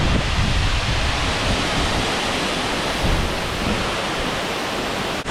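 A Scottish waterfall roars in a dense, steady rush of white water, loud and close, with wind buffeting the microphone and no voices.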